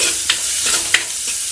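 Onion fries in a pan with a steady bright sizzle, while a spoon scrapes and stirs through it in a few distinct strokes, close up and without talk.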